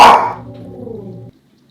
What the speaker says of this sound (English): my dog will not stop growling